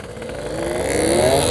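A motorcycle on a night ride revs hard at full throttle, its engine note climbing steadily and growing louder over a brief, close burst of acceleration.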